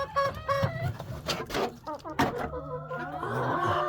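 Hens cluck and chatter loudly and close by, a busy run of short clucks and squawks.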